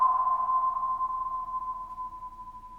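A single sustained active sonar ping rings at a steady pitch and slowly fades over nearly three seconds, heard alone against a faint low hum with no voices.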